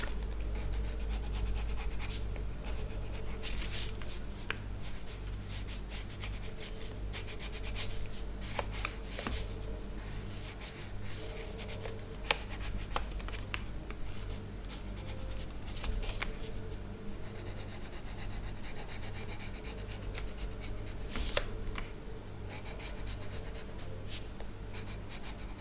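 Colored pencil shading wood grain in an Outlander-themed colouring book page, a steady soft scratchy rubbing of lead on paper that continues closely and evenly throughout, with brief pauses and small paper shifts.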